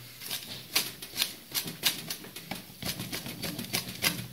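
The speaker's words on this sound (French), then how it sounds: "Vous allez le mettre sur votre petite planche à découper et vous allez le hacher." A large knife chops parsley on a small cutting board in quick, irregular taps, close and crisp, with no voices.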